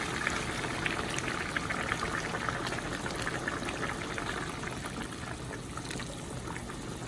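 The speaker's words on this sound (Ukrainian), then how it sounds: "Тепер я доливаю гарячої води, щоб на 2 см покрило м'ясо примерно." Hot water is poured into a pot of browned meat, carrot and onion for pilaf, a steady hiss and gurgle of liquid over sizzling food that continues evenly throughout.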